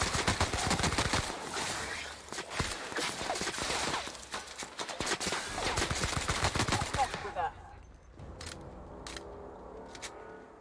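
Rapid gunfire in The Outer Worlds, dense bursts of loud automatic shots for several seconds, then the shooting stops and a few scattered clicks and softer sounds follow.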